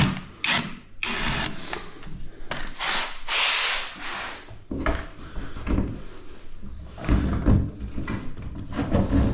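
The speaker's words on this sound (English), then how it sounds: "Unscrew it all the way." Screw being backed out of a DIY door with a ratcheting tool, close irregular clicks, grinding rubs and wooden knocks in uneven bursts, sounding busy and mechanical throughout.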